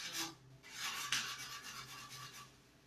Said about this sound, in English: I'm using a light grit sandpaper.